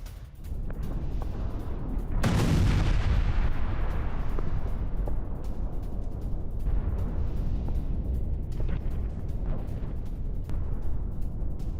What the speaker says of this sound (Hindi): ये देखिए जरा रूस के एयर स्ट्राइक से पावर प्लांट में विस्फोट।